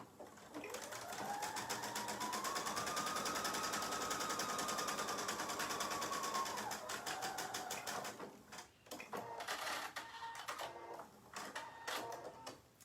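A sewing machine stitching the outer fabric of a Japanese knot bag, running in a long continuous rapid whir with a rising and falling motor pitch, then a few short stop-start bursts near the end.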